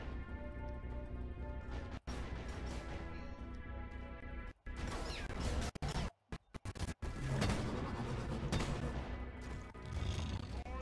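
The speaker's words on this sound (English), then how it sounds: "Supply pod launched. Better stand back." A supply pod in Deep Rock Galactic slams down amid loud, crashing mayhem: heavy smashing impacts, abrupt cut-offs and roaring noise in a chaotic cave fight, with no clear talk.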